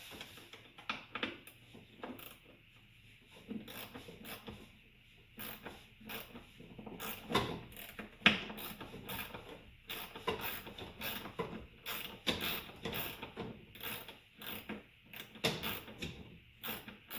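Ratchet clicking as Torx T30 bolts are loosened on a BMW N62 V8 engine in an E65/E66 7 Series, with repeated bursts of close, dry ratcheting and clicks in an irregular rhythm, with no talk.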